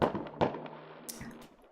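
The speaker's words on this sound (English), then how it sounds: "These are the fireworks." Fireworks in the game Dream Daddy pop in a few quick bursts, two sharp bangs up front and smaller crackles after, close and fairly quiet.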